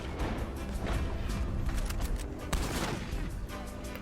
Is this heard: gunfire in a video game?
yes